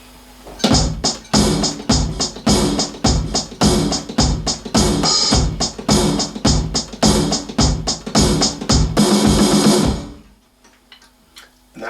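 Drum kit beat with hi-hat driving a repeated pattern, closing with a quick snare fill of three quavers; loud, close strikes in a steady rhythm for about ten seconds, then near silence.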